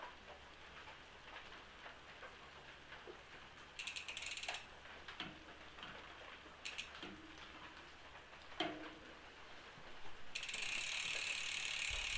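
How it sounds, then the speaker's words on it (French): Gear changes on a 12-speed mountain bike derailleur, worked through the handlebar shifter, give scattered sharp mechanical clicks and ratcheting ticks at irregular intervals, with a louder burst of clicking near the end and no talking. "je vais venir régler la tension du câble via la manette pour que mes vitesses passent correctement"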